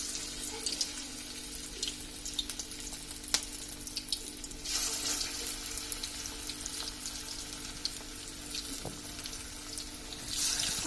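Cabbage pakoras, battered shredded cabbage, sizzle and crackle in hot oil, a steady close hiss with occasional sharp pops and clinks as pieces are dropped in.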